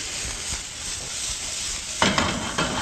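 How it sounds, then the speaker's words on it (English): Onions sizzle in olive oil in a pan over low heat, a steady close frying hiss with a few light scraping clicks near the end and no talking. "little olive oil in the pan, right? Just sweep the onions into here."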